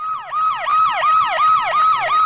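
A wailing emergency siren sweeps up and down in a steady, fast repeating cycle, loud and close, with no other sounds over it.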